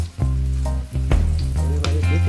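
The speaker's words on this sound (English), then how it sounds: "Then we're gonna dip them in the frying oil, the hot oil" Flour-coated chicken sizzles and crackles loudly in hot frying oil, the hiss surging as pieces drop in, with a few clinks over the continuous frying and no speech.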